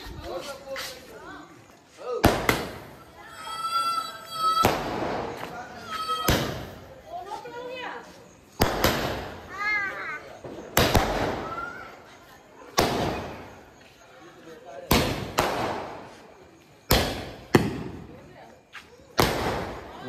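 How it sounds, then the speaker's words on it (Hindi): Diwali firecrackers burst loudly and close by in Bareilly, with repeated sharp cracks going off every couple of seconds while people talk between the blasts. "इसी वाला पटाखा है ये, बहुत तेज फूटता है"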